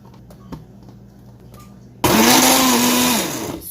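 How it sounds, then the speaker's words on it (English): A kitchen blender switches on abruptly and roars loudly while crushing vegetables, its motor pitch sagging slightly under the load before easing off, preceded by quiet kitchen clatter. "So I like to crush my vegetables, not blend too smooth actually."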